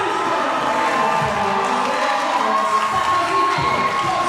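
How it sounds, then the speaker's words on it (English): A loud, roaring crowd cheers and applauds at a wrestling show as the opening title match begins, with shouts and high voices rising from a dense, continuous wall of noise. "Roaring applause for Sonico to open the show"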